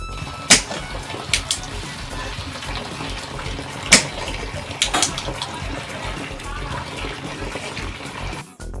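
Rice is washed and rinsed in water, with sloshing and swirling liquid, a few sharp splashes and clinks of grains against the bowl, moderately close and without speech.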